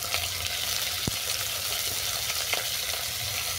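Shrimp frying lightly in mustard oil with salt and turmeric in a small pan, a continuous close sizzle with faint stirring and a couple of sharp utensil taps.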